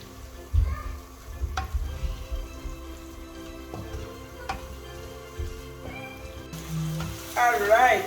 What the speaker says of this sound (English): Alright, my tomato is cooking.